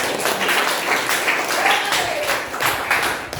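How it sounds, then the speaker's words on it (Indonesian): A vocational school class claps together at the end of a lesson, a continuous patter of many hands filling the room with a few voices mixed in. "kasih tepuk tangan dulu buat kita semuanya"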